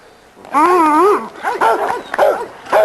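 A dog in a kennel yard lets out a string of close, loud whining yelps and short yips with rising and falling pitch, separated by brief pauses.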